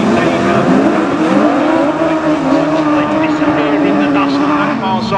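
Racing machines roar past on a track at a memorial race meeting, their loud, rising and falling engine notes whining through a turn, while a commentator talks over the noise.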